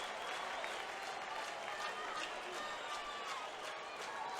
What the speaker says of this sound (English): Cubs fans trying to drown out the Cardinal fans' chant of Reggie with their hand clapping and anything else they can yell